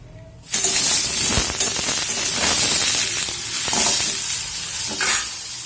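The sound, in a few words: food frying in a hot wok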